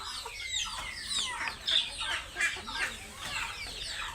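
Native chickens cluck and chatter on a small farm, a flock of several birds calling over and across each other in short, busy bursts at close to moderate distance.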